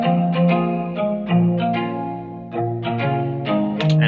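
Layered guitar from a Serum synth preset in a UK Afrobeat beat: a steady run of bright plucked, pitched notes with a washy chorus-and-echo sheen, played alone and fairly loud.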